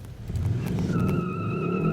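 A 2021 Kia K5 GT with 290 horsepower launches hard in Sport Plus mode with traction control off. The engine surges loud and close, and a rising tone climbs steadily under the roar.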